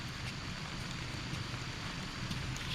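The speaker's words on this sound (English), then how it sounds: "Now when it's raining like it is now" Rain falling steadily at a fishing spot during carp and catfish fishing, a faint, even patter of drops with no voices.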